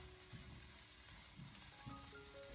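Chopped scallions and garlic with a spoonful of bean paste stir-fry in a little oil in a wok over low heat, a faint steady sizzle with a few soft scraping stirs.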